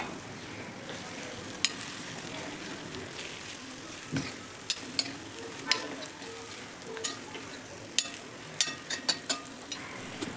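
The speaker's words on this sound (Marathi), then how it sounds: "आता त्यात शिल्लक राहिलेले वाटण घालायचे आणि छान असे परतून घ्यायचे." Stuffed eggplant sautéing in a pan with ground spice paste, a steady soft sizzle broken by sharp clicks and scrapes of a spoon stirring, with no voices.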